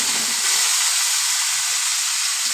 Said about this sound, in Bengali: এবার আমি এর মধ্যে কেটে রাখা পেঁয়াজ দিয়ে দিলাম